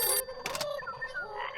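A telephone rings in the corrupted world of the video game White Shadows: electronic ringing tones sound alongside a brief burst of harsh noise, with no talking.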